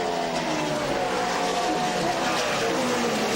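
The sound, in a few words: NASCAR Craftsman trucks racing on the Gateway oval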